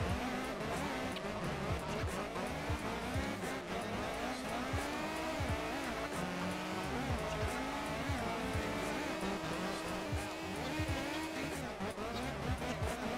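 A car in the Assetto Corsa racing game drives on controller with a continuous engine drone and repeated tire squeals as it slides through corners, a steady game soundtrack without pauses.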